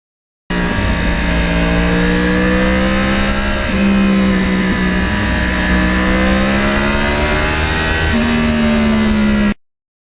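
A 13-year-old Yamaha R1 sportbike with over 30,000 miles rides along, its engine note humming steadily and shifting pitch abruptly twice as gears change, loud and close for the whole stretch.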